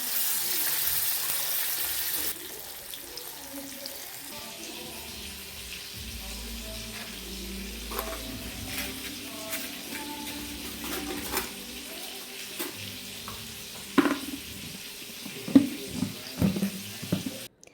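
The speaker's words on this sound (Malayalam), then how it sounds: "പപ്പടം പൊരിച്ച് മാറ്റിയതിന് ശേഷം എന്താ ഞാൻ ഫിഷൊക്കെ ഒന്ന് ഫ്രൈ ചെയ്തെടുക്കുകയാണ് കേട്ടോ" Fish frying in hot oil left over from frying pappadam in a home kitchen, a continuous soft sizzle and crackle with scattered pops and clinks of utensils, louder bursts near the end.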